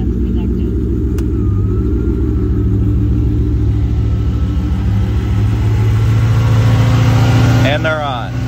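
A Ford Mustang with an overheating problem runs at a steady, loud idle with deep rumbling, rising slightly before easing near the end, with some talk around it.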